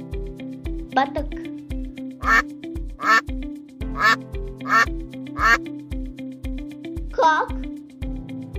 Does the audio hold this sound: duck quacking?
yes